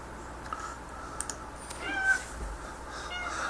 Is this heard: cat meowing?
yes